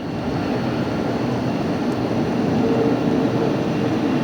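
A jet airliner lands at LAX, its engines giving a steady, loud broadband roar that holds constant throughout, with no voices over it.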